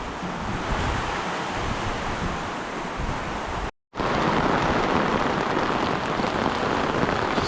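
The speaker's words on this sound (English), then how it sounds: "that's a nice shower going over." Rain shower pattering steadily on a tied-out canvas Dune 4WD King Titan Deluxe Double Swag, a dense close hiss of drops with one brief silent gap midway.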